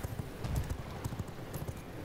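Horse hooves clip-clop in a quick, steady rhythm while riding a mount in the video game V Rising, close and moderately loud with no talk over them.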